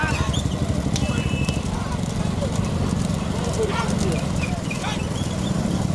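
Horse hooves clip-clop steadily through a noisy horse cart race, the rhythmic beats running under a constant roar of crowd and engines while a voice talks over it.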